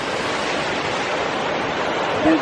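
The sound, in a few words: waterfall in Yellowstone gushing into pool below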